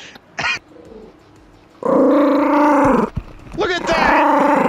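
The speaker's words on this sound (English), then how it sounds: "Get that fucking dog out the damn mic!" A dog growls and barks right into a gaming headset microphone, loud and close in harsh bursts, with shouted voices breaking in between.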